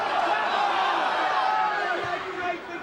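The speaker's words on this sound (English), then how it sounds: "The crowd getting restive." Football crowd at a Wycombe versus Macclesfield Town match in 2006 grows restive, a broad continuous roar of murmuring and jeering voices that fades slightly near the end.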